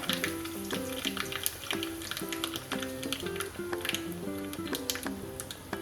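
Mustard seeds, a little fenugreek and two dry red chillies crackle and pop in hot coconut oil for a sambar tempering, a dense, fast, faint spatter of sharp pops over a steady sizzle.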